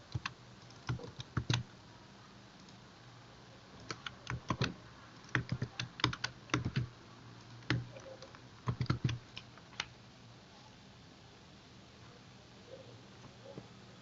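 Fingers type on a computer keyboard in sporadic clusters of sharp, quiet keystroke clicks separated by short pauses, fairly faint against a low background hum.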